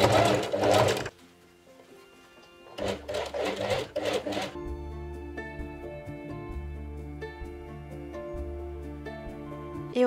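A sewing machine stitching a cuff to its lining runs in two short fast bursts of whirring needle motor, close and loud, then gives way to quieter humming tones.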